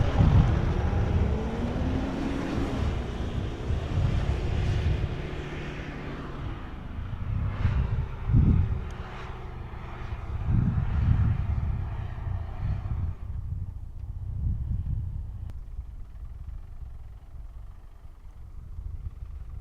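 A car climbing up a beach sand dune and then coming back down, its engine a loud, low rumble with wind buffeting that swells, eases and fades toward the end.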